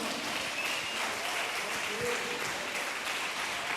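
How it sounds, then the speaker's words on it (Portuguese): A church congregation applauds the Lord in a steady, dense burst of clapping that fills the whole stretch, loud and close with no pause. "Alguém pode aplaudir ao Senhor por isso?"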